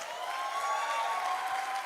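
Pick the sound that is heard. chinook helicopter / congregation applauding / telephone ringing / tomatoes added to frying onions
congregation applauding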